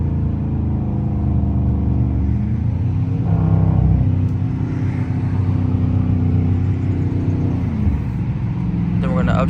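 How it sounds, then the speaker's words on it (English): A car engine drops through its gears via paddle shifters as it slows, a steady mid-pitched drone with a brief rev blip on the downshift, loud and close inside the cabin. "Then as we go slow, we're gonna downshift."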